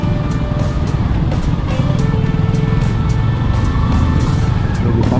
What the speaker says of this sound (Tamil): சண்டேன்றதுனால ஃபுல் டிராஃபிக்காக இருக்குங்க.